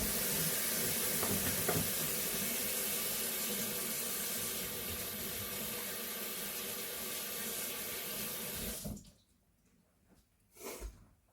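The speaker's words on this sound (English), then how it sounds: "I'm going to wash my hands first." Hands are washed under a kitchen tap while habanero salsa is being made, with a steady rush of running water that stops abruptly near the end, followed by a brief splash, and no talk.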